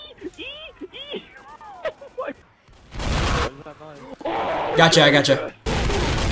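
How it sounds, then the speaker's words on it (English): Rapid gunfire from a Gatling gun in the zombie shooter Left 4 Dead, coming in loud, dense sustained bursts that start and stop abruptly, interleaved with excited talk between players. "He's gonna use the Gatling gun."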